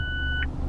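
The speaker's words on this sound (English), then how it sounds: "and when it beeps the windows go up" A Mazda MX-5 RF 1.5 132PS Sport gives a single steady electronic beep as its retractable hard roof clamps in place, held about half a second before a brief click, over a low idling engine hum.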